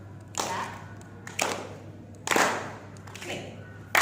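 Hands clap slowly in a loose rhythm, four or five separate claps spaced about a second apart, fairly faint against a low background hum.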